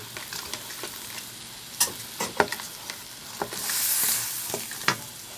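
Two eggs sizzle in a wok with crab curry, with a soft hiss throughout broken by sharp clicks and scrapes of stirring and one brief louder sizzle burst.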